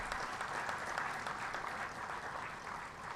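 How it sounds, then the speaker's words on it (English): Audience at the President's Visitor's Awards 2017 ceremony clapping in a steady, even round of applause, fairly distant and soft, filling the whole moment without talk. "we all should clap for our president"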